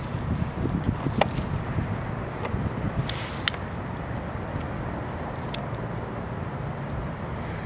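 Gusty outdoor wind in a cemetery rumbles and buffets at night, a steady, fairly faint whoosh with a few scattered light clicks.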